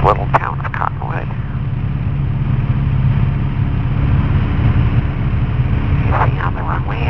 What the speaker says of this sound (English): They don't like airplane noise in this little town of Cottonwood.